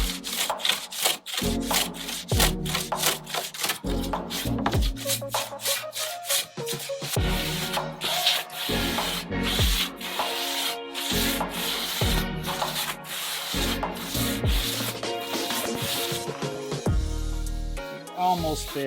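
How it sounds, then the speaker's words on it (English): Hand plane shaving thin wood veneer on a wooden boat build, a rapid series of close rasping, swishing strokes in a steady rhythm, mostly without talk. "it's actually getting hard to get the plane to bite. I've got a fairly light cut on the plane iron"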